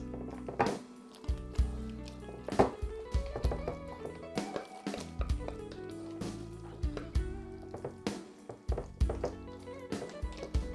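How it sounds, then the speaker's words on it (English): Macaroni and cheese being scraped from a bowl into a pan, with repeated soft thunks and wet taps of a utensil against the dish in an uneven rhythm, close and moderately loud. "So I'm gonna scrape it out inside of it like this."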